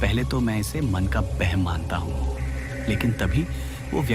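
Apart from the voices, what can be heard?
No everyday noise stands out behind the speech.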